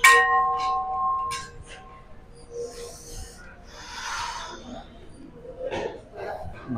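A temple bell rings at Poddareshwar temple during a New Year Ganpati darshan visit, a bright metallic clang at the start that fades into general crowd murmur and scattered clinks.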